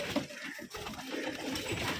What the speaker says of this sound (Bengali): কালার ম্যাচিং রাজশাহী গিরিবাজ কবুতর।